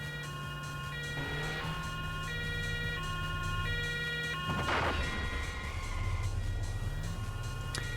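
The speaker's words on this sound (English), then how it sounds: "Krankenwagen, that's ambulance" An ambulance siren in the PS1 racing game Autobahn Raser II, a steady two-tone wail running throughout over engine and road noise, with a brief crash-like burst partway through.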